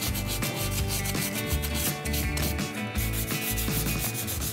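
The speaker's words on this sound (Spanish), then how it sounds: "¿Y cómo lijamos? Pues simplemente eso, con un taquito de lija es suficiente." Rhythmic back-and-forth rubbing of a small sanding block with sandpaper on wood, a steady scratchy rasp repeating in quick even strokes, close and loud.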